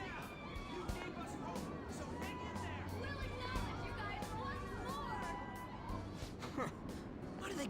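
Crowd of human voices cheering and chattering in Persona 5 Royal, a continuous babble with scattered shouts, moderately distant, with speech layered over it.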